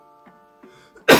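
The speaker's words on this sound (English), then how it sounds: "I'm gonna sneeze." A person gives a single loud, abrupt sneeze up close, preceded by a few soft breathy sounds as it builds.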